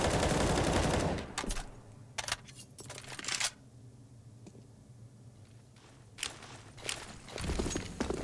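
Rounds fire in a CS:GO match on the Nuke map, with a loud burst at the start and scattered sharp shots and clicks between quieter stretches.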